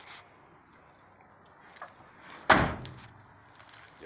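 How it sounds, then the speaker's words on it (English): Car door on a 1968 Chevelle shutting once with a solid, loud slam midway, after quiet background with a few faint clicks and a softer knock near the end. "Y'all heard that door shut."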